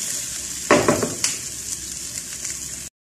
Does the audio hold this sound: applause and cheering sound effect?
no